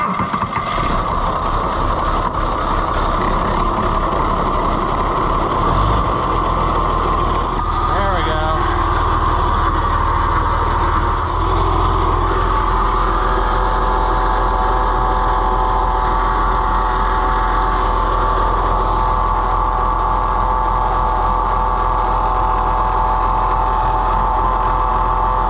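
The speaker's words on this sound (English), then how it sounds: "we got a lot of noise in this pump, and we still have leaks here" An Oliver 1755 tractor runs with a noisy hydraulic pump, a steady loud engine drone with a whining pump tone layered over it, close and continuous for the whole stretch while people talk.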